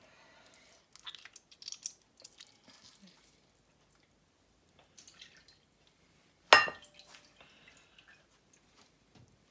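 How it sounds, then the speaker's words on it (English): Wet squeezing of tamarind husk soaked in water by hand while making rasam (pepper water), with soft, scattered squelches and drips, then one sharp, loud splash-like burst near the end. "All the husk of the tamarind. Squeeze it all out nicely."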